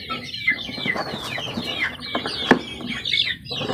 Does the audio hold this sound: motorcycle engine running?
no